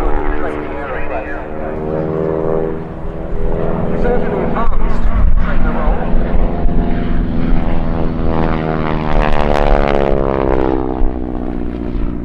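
A propeller training aircraft flies by at an air show, a steady loud engine drone with shifting pitch that swells and sweeps toward the end, while a voice talks over it throughout.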